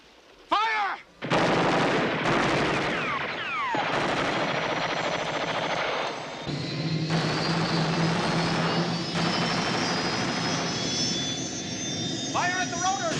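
Rapid bursts of gunfire hammer at a helicopter's rotor amid roaring aircraft engine noise, with loud shots and whooshes repeating throughout a dramatic aerial action scene.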